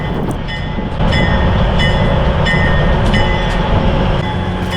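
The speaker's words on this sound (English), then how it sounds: "it is the original White Pass narrow gauge rail train that really keeps the town humming in tourist season" A White Pass narrow gauge railway train rolls past loudly and close, with steady wheel rumble, rhythmic rail clicks and high metallic squeals over a continuous roar.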